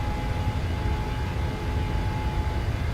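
A PMDG 737 at takeoff power in Microsoft Flight Simulator, its engines giving a steady, loud, even roar with a faint whining tone and no talking.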